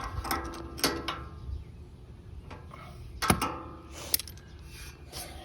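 Bolts on a bull bar grille guard for a 2011-21 Jeep Grand Cherokee or 2011-13 Durango being tightened, giving scattered metallic clicks and ratcheting taps with a few sharper knocks, close and moderately quiet.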